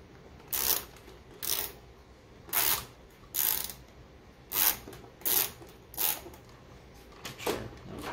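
Ratchet wrench clicking in short bursts while screwing a part into a Smart Drive MX2 during general maintenance, about ten separate ratcheting spurts with brief pauses between, close and fairly loud.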